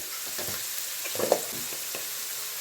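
Sprouted green gram fries in oil in a pan, giving a soft, steady sizzle with a few faint stirring scrapes close by.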